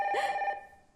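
A telephone rings at a radio station phone-in, a single short electronic ringtone burst, fairly clear and close, then fading away.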